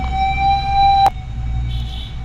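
A 24 volt DC gear motor runs with a steady, loud whine and low hum, broken by one sharp click midway, continuing after at a slightly lower level.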